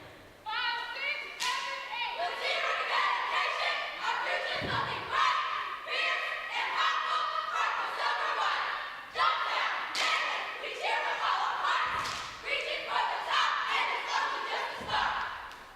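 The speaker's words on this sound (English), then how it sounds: "So we saw the intro cheer there." High school cheerleaders perform their intro cheer at a football game, rhythmic shouted chants with sharp thumps and claps repeating through a long stretch, moderately distant with crowd noise and announcers talking.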